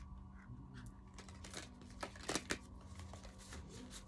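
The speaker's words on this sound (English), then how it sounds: "These are very difficult to shuffle." Oracle cards are shuffled by hand, giving a quiet run of soft riffling flicks and taps with a brief louder flurry in the middle.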